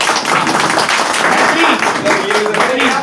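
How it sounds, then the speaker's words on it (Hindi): A room full of seated men breaks into applause, a dense, steady clapping that runs the whole stretch at close range, with voices mixed in underneath. "ताली हो जाए सारे"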